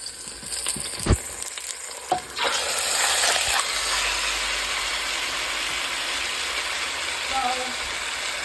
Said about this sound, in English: We're going to let that sear on each side for about 4 minutes